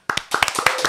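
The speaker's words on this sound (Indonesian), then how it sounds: "Oke, tepuk tangan." In an Indonesian radio studio, a few people clap their hands briefly, several sharp, close, distinct claps in quick succession after a moment of silence.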